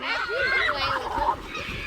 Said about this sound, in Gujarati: ના ના બતક છે બતક